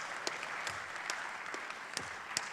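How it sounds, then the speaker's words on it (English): Steady audience applause fills a faculty awards ceremony, a dense wash of many hands clapping at a moderate, somewhat distant level, with a few sharper individual claps standing out. "round of applause"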